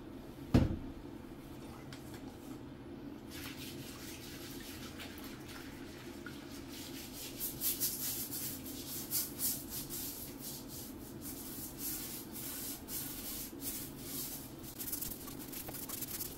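A toilet bowl is scrubbed clean with Bar Keepers Friend, giving soft repeated rubbing and brushing strokes with faint watery swishes, close and fairly quiet, after a sharp knock near the start.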